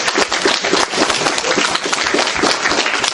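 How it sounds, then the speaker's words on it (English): A presentation audience gives a round of applause, dense and continuous clapping from many hands at close range, loud throughout with no talking. "Can we have a round of applause, please?"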